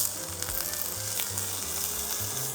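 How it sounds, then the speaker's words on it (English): Corn kernels sizzling steadily in hot oil in a pan over medium-high heat, a continuous close, dense frying hiss with no voices. "I got a pan going. We're gonna put just a little bit of some oil. And then once that's hot, we're going to put in our corn."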